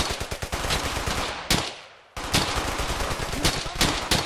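World War II battlefield gunfire from Brothers in Arms: Hell's Highway keeps up dense, continuous machine-gun and rifle fire, loud and close, with a brief lull in the middle before the barrage resumes.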